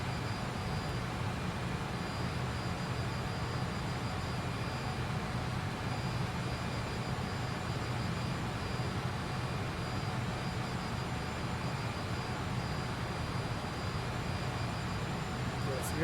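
Fokker F28 jet engines in a flight simulator game, flying from Phoenix to Palm Springs: a steady, dense roar and hum that holds at an even level throughout, with a faint high whine above it.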